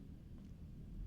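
Storm in the survival game Heat Death: a steady low rumble of thunder with rain and wind rolling continuously, faint and muffled, no talk.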